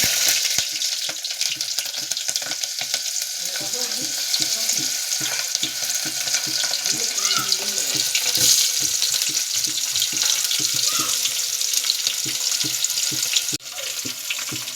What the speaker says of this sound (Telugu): నూనె అయితే కాగింది, జీలకర్ర అయితే వేస్తున్నాను, ఎర్రగడ్డ అయితే వేస్తున్నాను.